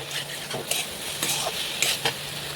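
Vegetables and spices fried and stirred in a pan for a vegetarian khichuri, a steady sizzle broken by repeated scraping strokes of a spoon at an even rhythm.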